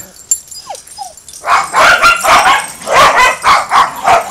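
A dog barks repeatedly outdoors in a yard, a run of loud, close barks and yips in quick rhythm after a couple of faint whines at the start.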